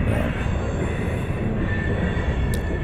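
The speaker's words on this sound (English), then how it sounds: "He'll be the last train out on this video." A train rolls steadily past at Callahan Junction, loud and close, a continuous heavy rumble of railroad cars with a faint wheel squeal riding over it.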